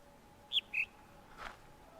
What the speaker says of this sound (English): The bird chirp goes high and then it goes low.